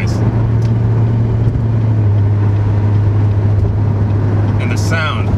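A supercharged 2015 Chevrolet Corvette C7 with a Procharger setup drones steadily from inside the cabin, loud and even, with a brief voice near the end.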